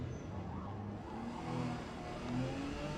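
A Porsche 956 race car in Forza Motorsport, driven in P class at Kyalami, brakes hard for a left-hander, its game engine sound a steady, loud drone with wavering pitch and a slight swell of revs.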